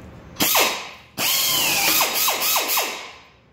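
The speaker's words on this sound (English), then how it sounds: "This is an air drill because I'm at work right now." A pneumatic drill bursts on twice, then runs with a rising whine and several quick trigger pulses as the bit cuts through cold rolled steel, close and loud.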